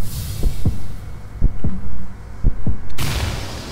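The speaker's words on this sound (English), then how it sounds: "Oh, you hear the heartbeat and the whispers." A nightmare heart in the Grimm Troupe game throbs with low, paired heartbeat thumps repeating in a slow rhythm under a dark ambient drone, before a louder surge of noise at the end.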